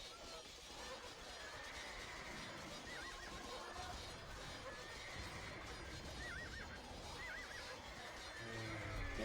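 Horses neighing and whinnying with clip-clop hooves amid a steady din of battle noise in a real-time strategy video game match, several whinnies recurring across the clip at a moderate, constant level.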